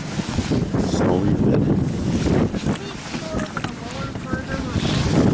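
Strong wind in snowy Antarctica buffets the microphone in loud, gusty bursts, with rushing noise outdoors and faint calls breaking through.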